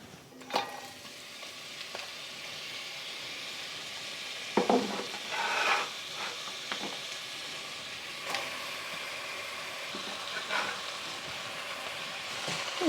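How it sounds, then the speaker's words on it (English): Onions and zucchini sizzle in about a tablespoon of vegetable oil, a continuous close frying hiss broken by scraping stirs and a few clattering pan knocks. "adding about 1 tablespoon of vegetable oil. And we're putting in our onions and zucchini."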